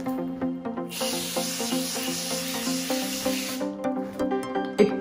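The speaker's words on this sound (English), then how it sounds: "It is a Atoderm SOS spray and it's anti-itching ultra soothing spray" Atoderm SOS soothing spray hisses steadily onto a face for about three seconds, close and clear, over soft background music.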